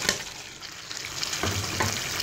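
Boiled pasta tossed with chicken and vegetables in a hot pan, a continuous sizzle with scraping, stirring strokes of a spatula, moderately close and with no talking.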